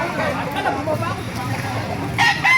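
Roosters crow and cluck amid the hubbub of a Baliuag, Bulacan chicken market, the fowl mixed into steady crowd babble, with people talking nearby and a sharper burst near the end.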